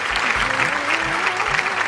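Audience applause at a televised singing competition, dense and loud clapping over a low sustained musical tone from the band.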